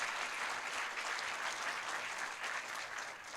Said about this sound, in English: So please give Denise a round of applause.